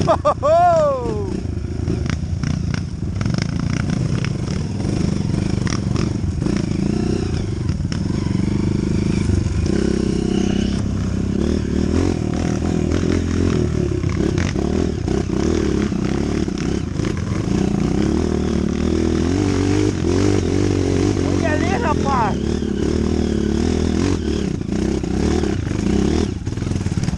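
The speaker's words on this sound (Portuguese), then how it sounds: "É bom sábado de tarde andar de moto." Motorcycle ridden on a mountain road on a rainy afternoon, its engine a continuous close drone with rising and falling revs, clatter and wind rumble throughout while the rider talks over it.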